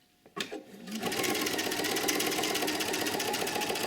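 After a couple of soft clicks, a sewing machine starts up and stitches a coat welt pocket, a close, fast, even motor whir with rapid needle chatter that holds steady to the end.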